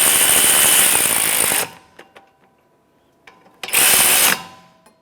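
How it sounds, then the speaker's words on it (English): An electric ratchet snugs the rear brake caliper bolts on a 2014-2022 Chevrolet Trax, running in two loud buzzing bursts of about a second and a half and under a second, close by, with a few small metallic clicks in the pause between. "I'm going to get my electric ratchet and snug those up before I torque them."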